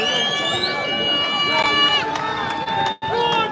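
A large outdoor crowd at a farmers' protest, with a dense, continuous murmur of many voices plus whistles or horn-like tones above it, loud and near throughout.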